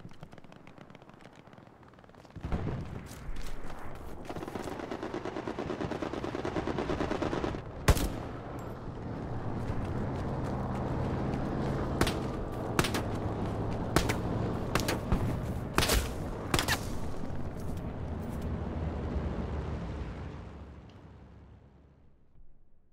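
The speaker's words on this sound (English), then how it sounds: "Strafing run coming east of WN4" Strafing run in the World War II shooter Hell Let Loose, bursts of aircraft machine-gun fire and sharp explosions cracking over a constant engine drone, rising from quiet into a sustained loud barrage before fading away.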